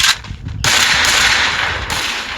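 Gunfire in the mobile shooter Free Fire, loud and close: a couple of short sharp shots, then a sustained blast of rapid fire that carries through to the end.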